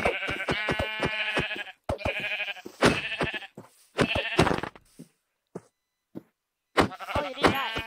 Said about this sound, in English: Oh, I must have killed another sheep here.